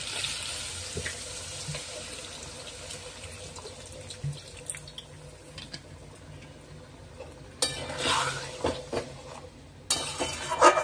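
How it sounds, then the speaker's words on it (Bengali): Water splashes into a pan of dum aloo in a home kitchen, a soft trickle and pour with light clinks of the pan, close and fairly quiet, no talking. "এবার আমি এর মধ্যে অল্প করে জল দিয়ে একটু ঢেকে দেবো"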